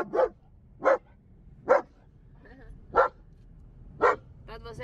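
A German Shepherd barks five times in a slow, regular rhythm, close and loud, with faint voices in between.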